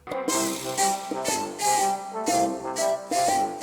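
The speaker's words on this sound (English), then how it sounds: "I matched that lead with the most serious instrument ever," Video game music track with a kazoo carrying the lead over recorder, a buzzy melody in repeated phrases above steady rhythmic accompaniment, loud and upfront, no voices.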